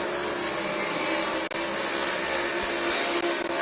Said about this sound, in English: Jason Weller up front running right on the back bumper of Chase Hill.